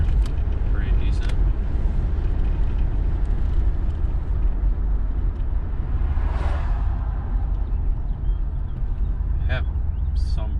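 A 1993 Chevrolet Caprice wagon with rusty brake rotors and a rear brake-fluid leak cruises along, giving a steady, loud road and engine drone with a brief passing whoosh midway.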